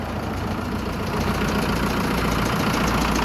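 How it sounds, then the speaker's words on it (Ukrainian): A Lovol 504 Pro tractor's four-cylinder diesel engine idles close by, a constant low chugging rumble with no voices. "Чотирьохциліндровий дизельний двигун"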